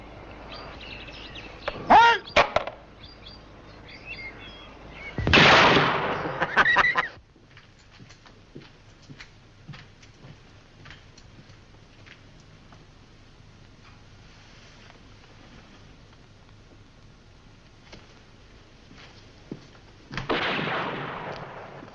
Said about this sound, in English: Sounds like a shotgun.